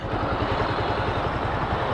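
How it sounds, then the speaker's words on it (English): A 2018 Bajaj Avenger Street 220 cruiser motorcycle idles close by, its exhaust giving a steady, low, even thumping pulse that runs unbroken and loud with no voices over it. "give you a rough idea of the exhaust note"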